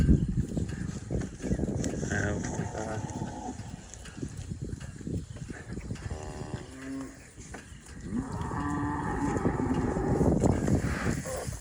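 Cows bawl loudly, long drawn-out moos rising over a constant rumble of background noise, one call after another.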